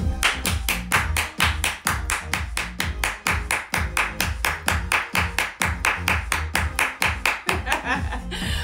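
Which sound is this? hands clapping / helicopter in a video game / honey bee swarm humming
hands clapping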